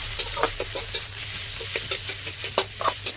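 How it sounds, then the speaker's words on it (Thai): Minced pork stir-fried with pounded spice paste, a continuous sizzle broken by quick rhythmic scrapes and taps of a spatula against the pan. "จากนั้นก็ผัดต่อเลยค่ะ ผัดไปจนกว่าทุกอย่างจะส่งกลิ่นหอมขึ้นมา แล้วก็หมูสับ"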